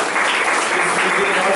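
College quiz audience clapping in a hall to cheer on the competing teams, a loud dense burst of applause mixed with voices.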